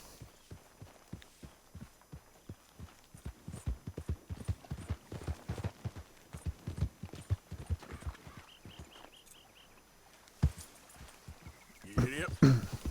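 Horse hooves clip-clop in a steady trotting rhythm in Red Dead Redemption 2, close and clear, fading toward the end with brief extra game noises and a faint voice.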